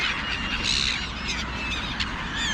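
Birds calling outdoors on a chilly day near a Mercedes dealership, identified as pigeons, with honking, goose-like calls over steady background noise, repeated at irregular intervals for a few seconds.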